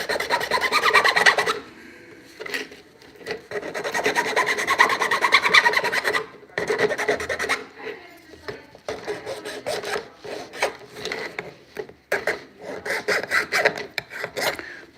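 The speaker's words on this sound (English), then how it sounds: "I can sit here and kind of grind and sand at it for a little while" Hand sanding and filing to take a burr off a small object, with close, loud rasping strokes in uneven bursts separated by short pauses and no talking.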